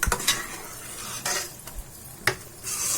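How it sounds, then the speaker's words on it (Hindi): Fried pakoras are stirred into simmering kadhi curry in a pan, with repeated scraping and stirring strokes over a soft sizzle and a few sharp utensil knocks, fairly close, with no voices. "अब इसमें हम पकोड़े डाल देंगे। इसे भी हम मिला देंगे।"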